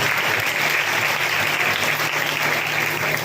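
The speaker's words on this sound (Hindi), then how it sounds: "कम ऑन, एक जोरदार ताली हो जाए।" A church congregation gives loud, sustained applause at an anniversary service, a dense continuous clapping from a large crowd.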